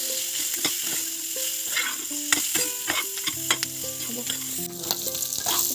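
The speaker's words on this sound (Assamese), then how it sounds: "এতিয়া এইখিনি অলপ ভাজি লওঁ।" Pork pieces fry and get stirred in a pan with turmeric, a steady sizzle broken by repeated scraping and clattering strokes of a utensil, close and moderately loud with no talk.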